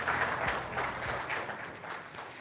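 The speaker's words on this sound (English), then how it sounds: "Please come and give them a big round of applause to show our appreciation." Audience applause at an African cybersecurity leaders' summit, a steady dense patter of many hands clapping that holds level across the short stretch with no voices on top.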